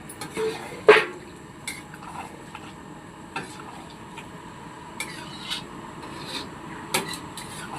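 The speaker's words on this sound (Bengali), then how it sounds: "ছুরি দিয়ে নারকেল ফাটাচ্ছে মা" A knife strikes a coconut to crack it open: one loud, sharp crack early on, then a scattering of fainter knocks and scraping taps, close by in a quiet kitchen with no talking.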